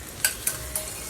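Bitter gourd pieces fry for a Kathiyawadi-style karela shaak, with a soft, steady sizzle in the pan broken by three sharp clinks of a spoon stirring, spaced evenly, close and fairly quiet.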